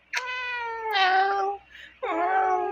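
A black cat meows several times, close and clear: a long drawn-out meow, a second rising call, a brief soft murmur, then a final meow, with no talking.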